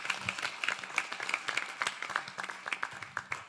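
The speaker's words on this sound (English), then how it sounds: "the youth group of the Ram Mandir deserves a huge round of applause once again" A crowd at Mississauga's Ram Mandir anniversary yagna applauds the temple youth group, giving steady scattered clapping at moderate distance with a faint murmur of voices underneath.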